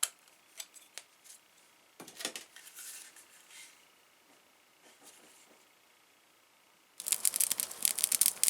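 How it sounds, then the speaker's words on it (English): Small snips and scratchy clicks while thread ends are trimmed during leather stitching, a few sharp close cuts, then a burst of rustling and crisp scraping handling noise near the end, with no talking. "And you just trim off both ends."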